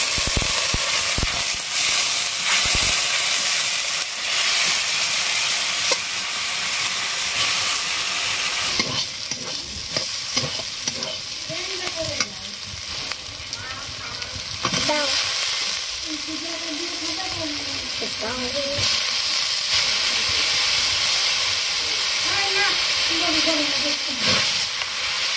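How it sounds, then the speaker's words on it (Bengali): Ginger-garlic spice paste fries with a little water in a pan, a constant loud sizzle and steamy hiss under repeated stirring and scraping strokes that go on throughout, close up with no voices. "সামান্য জল দিয়ে ভালো করে মশলাটা কষিয়ে নেব।"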